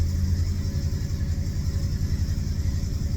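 A classic car's 351 Cleveland V8 idles close by, a loud, deep rumbling burble with an even pulsing rhythm and no voices over it.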